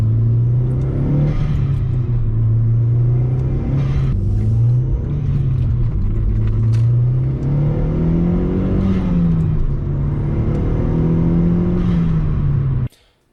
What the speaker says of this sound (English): diverter valves generally sound like this.